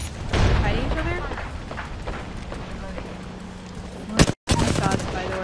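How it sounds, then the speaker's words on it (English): Bursts of gunfire in the Fortnite video game, scattered shots and rattling volleys at moderate distance, mixed with game noise and someone talking over it. "Shots, by the way."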